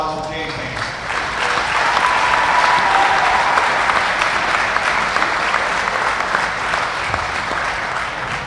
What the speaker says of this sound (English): let's give a round of applause for James Haynes.